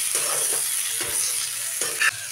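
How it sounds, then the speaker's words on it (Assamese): Boiled potatoes go into a hot frying pan for an Assamese egg dum and are stirred through, producing a continuous hissing sizzle broken by a few soft stirring scrapes. "ইয়াতে এতিয়া আমি সিজাই ৰখা আলুখিনি দি দিম"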